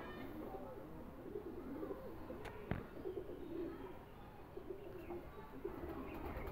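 Kasuri pigeons coo softly in a loft, low rolling calls repeating at a distance with a faint flutter of wings and background murmur.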